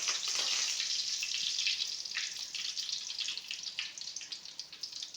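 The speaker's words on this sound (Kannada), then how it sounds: "ಎಣ್ಣೆ ಬಿಸಿ ಆದ ನಂತರ ಕರಿಬೇವಿನ ಸೊಪ್ಪು ಹಾಕೋಣ" Curry leaves sizzle in hot sunflower oil in a home kitchen, giving a steady, fairly faint hiss with small crackling pops.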